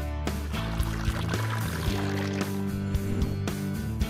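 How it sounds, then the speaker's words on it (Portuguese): Ice-cold water poured into a food processor holding salt and small pieces of butter, a steady pour of several seconds with a faint resonant ring and soft splashing, no voices. "Coloque um pouco de água gelada."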